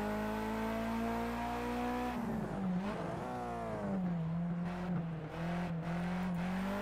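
Toyota race car lapping a circuit in Project Cars 2, its engine a loud, close, sustained drone that dips and climbs through gear changes and corners, with a brief tire squeal.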